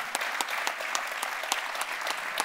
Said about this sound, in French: On peut applaudir, on peut applaudir.